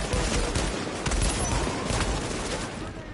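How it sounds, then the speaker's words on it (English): Shotgun blasts in the video game The Division come in heavy, overlapping bursts over a dense, noisy game-combat backdrop, loud and close, easing off slightly toward the end. "Man, that shotgun is so good."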